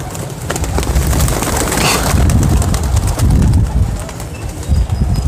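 Pigeons coo close by in soft, repeated throaty calls over a light rustling background, with no talking.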